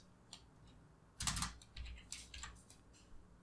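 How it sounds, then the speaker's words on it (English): Quiet keystrokes on a computer keyboard come in a quick burst followed by scattered single taps, close up and with no voice. "So I can do that by typing gdf dot"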